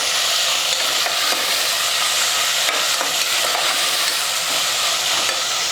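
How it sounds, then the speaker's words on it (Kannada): Vegetables sizzling and frying in a pan for pudina rice while being stirred, a loud continuous hiss with occasional scraping stirs, close up and without any talk. "ಇದೆಲ್ಲ ಚಲೋ ಹೊತ್ತಿಗೆ ಮಿಕ್ಸ್ ಮಾಡ್ಕೊತೀನಿ."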